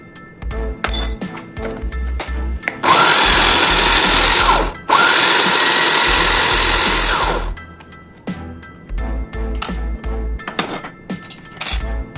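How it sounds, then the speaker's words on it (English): A food processor blends sugar-free Oreos with melted butter, starting with a few clinks and short pulses, then roaring loud and close in two long continuous runs before dropping back to brief bursts and rattles. "we're gonna put it in the food processor with the melted"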